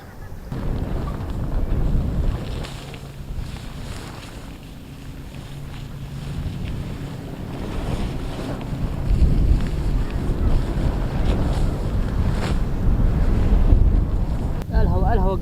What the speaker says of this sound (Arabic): الهواء قوي يا رجال، الهواء قوي